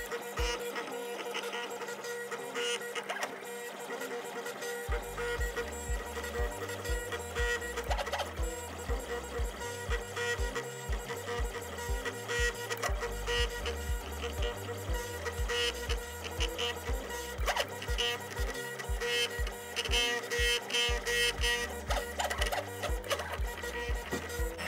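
A 3D printer running after a repair of its heated bed and SSR wiring, giving a steady mechanical whir with rhythmic low stepper-motor pulses that start a few seconds in and continue close and alone.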